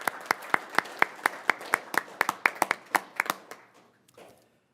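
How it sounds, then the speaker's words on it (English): A small group applauds at a city council meeting: a few hands clap in a steady, distinct rhythm, quickening slightly before tapering off and stopping, with a faint murmur at the end. "I think she deserves a round of applause for this"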